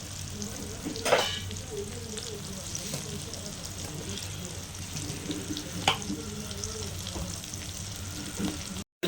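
Dried fish frying in oil in a pan over a medium flame, a steady soft sizzle with occasional spatters and a scrape of stirring, while a person talks faintly at intervals.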